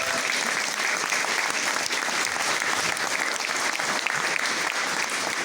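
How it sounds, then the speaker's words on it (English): Audience applause at an art exhibition, a dense steady wash of many hands clapping at once, sustained and fairly loud without letup for the full stretch. "So just a round of applause for everybody."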